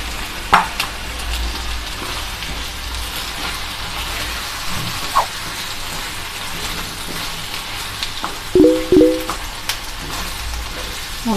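Cashew and poppy seed paste sizzles in a pan for chicken korma, a steady frying hiss with occasional spoon knocks and scraping as it is stirred.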